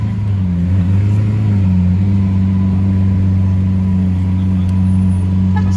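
A blue Lamborghini Aventador SV Roadster with a V12 engine holds a loud, close, steady rumble that rises slightly in pitch early on, then drones evenly to the end.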